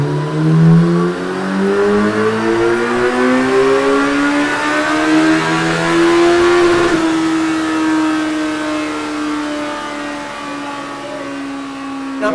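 A high-revving Suzuki Hayabusa motorcycle engine climbs steadily in pitch, peaks, then holds a sustained whine before easing off, loud and close with no voices.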